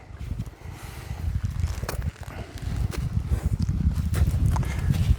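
Hooves of a ridden horse during a slow, steady training session, thudding in a loose walking rhythm close by over steady low rumble and rustle.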